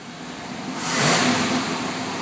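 A car engine with a no-start problem is revved in one rising and falling burst, swelling to a peak around the middle and settling into a steady run, close and fairly loud, with no talking.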